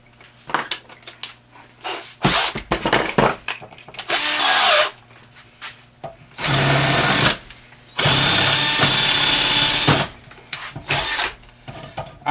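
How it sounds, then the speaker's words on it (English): A power drill augers out a ball joint fastener on an AMC Eagle, running in several loud, sustained whining bursts separated by clanks and handling noises, close up with no talk. "Wow, that actually augers out real well."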